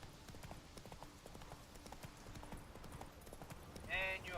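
Hooves of Geralt's horse Roach clopping at a rhythmic gait in The Witcher 3, faint and steady under game ambience, with a voice speaking near the end.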